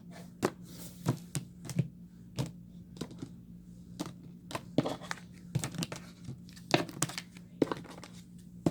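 A deck of tarot cards being cut and shuffled, crisp close-up flicks and riffling taps repeating irregularly over a low steady hum, with no speech.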